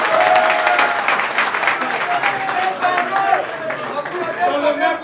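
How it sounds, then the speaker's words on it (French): Applause from an audience in a hall, steady clapping mixed with crowd chatter and voices throughout. "Et je demande à la salle d'applaudir pour le courage du docteur Étienne Inongo."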